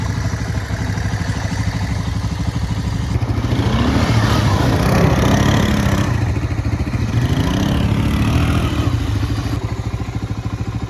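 A clean, original Honda ATSki runs steadily up close on a small hill climb, its mid-pitched engine drone swelling between about three and nine seconds as it works under load, with a rattling clatter and no talking.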